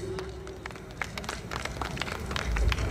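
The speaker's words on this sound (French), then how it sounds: "On applaudit." Scattered clapping from an audience at the opening night of the 5th Festival des Grillades in Bamako, uneven claps building toward a louder swell at the end.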